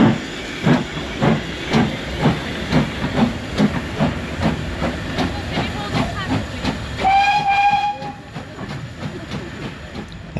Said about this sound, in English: this locomotive was giving footplate rides, so here's just a couple of videos of it going up and down the station